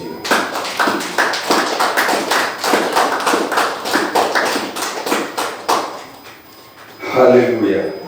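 A church congregation applauds with steady, loud, rhythmic clapping that fills the space for several seconds, then eases off before a voice comes in over the end.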